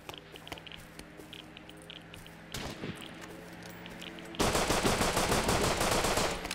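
Rapid bursts of gunfire from Rust Legacy, quiet and scattered at first, then a loud, sustained volley erupting close by in the final seconds.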